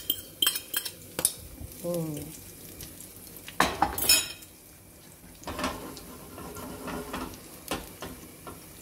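Metal utensil stirring beaten eggs in a pan for a Thai herb omelette, with scattered clinks and scrapes against the pan, a faint sizzle beneath, and a brief voice sound.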